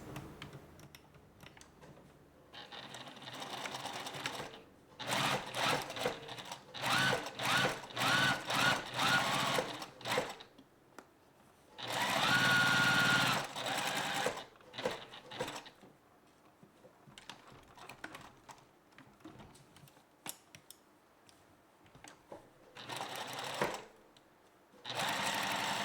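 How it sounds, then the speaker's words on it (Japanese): Sewing machine stitching the back slit opening of a dress in repeated bursts of rapid mechanical whirring, close and clear, with short stops and quiet handling of fabric between runs, with no talking. "これで縫っていこうと思います。 後ろの涙開きを縫っていきます。"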